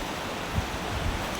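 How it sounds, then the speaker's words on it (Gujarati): Floodwater surges down the Dadhoriya river running bank to bank, several feet deep, as a steady broad wash of rushing water mixed with wind buffeting close to the microphone. "જુઓ, પાણી બધે હિલોડા લે છે, પુષ્કળ પાણી છે."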